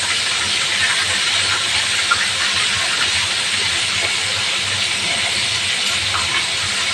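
Tilapia frying in hot cooking oil for a home dinner: a steady, loud, broadband sizzle and hiss that runs unbroken throughout, with no voices over it.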